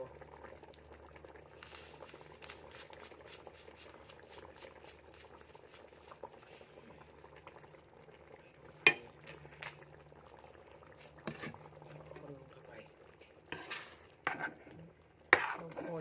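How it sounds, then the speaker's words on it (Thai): Fish sauce simmers in a pot over a home cooking fire, giving a low steady bubbling beneath scattered sharp knocks and clatters of utensils, with a few louder taps near the end. "เคี่ยวเข้าไปได้เรียบร้อยเลยนะคะนี่คือน้ำปลา"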